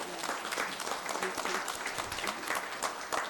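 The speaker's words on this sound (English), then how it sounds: "would you join me in giving a round of applause to Patrick and all of our campuses" Applause from the audience at a school district board of trustees meeting fills the room, a steady dense patter of many hands sustained throughout with a faint murmur underneath.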